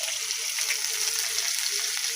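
Chopped ginger frying in a pan alongside onion, bay leaf and cumin, an even, hissing sizzle that holds steady and close throughout without stirring breaks or talk.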